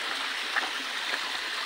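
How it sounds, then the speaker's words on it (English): River flowing nearby, a steady broad rushing of water with faint gurgles, continuous and fairly loud, no talking. "Finally, guys, I have a river!"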